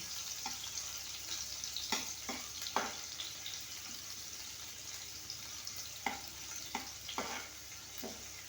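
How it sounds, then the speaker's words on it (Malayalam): Onions fry in a pan for a masala curry, a soft steady sizzle with repeated scraping and stirring strokes at irregular intervals, close by and with no voices. "അപ്പോൾ നമുക്ക് ഈ ഉള്ളി ഇതിലേക്ക് ഇട്ട് കൊടുക്കാം കേട്ടോ. ഉള്ളി ഒന്ന് നന്നായിട്ട് മൂക്കണം."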